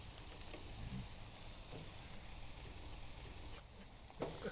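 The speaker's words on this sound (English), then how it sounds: "You want to get them on, give them a good sear." Beef braciole pinwheels sear on a hot two-zone grill, a faint, continuous hissing sizzle with a few soft clunks and shifts, no talking.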